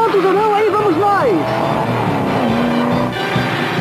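Cartoon racing cars roar past with a wailing engine tone and short tire squeals that bend up and down, then settle into a steady droning pitch, loud, with voices talking over it.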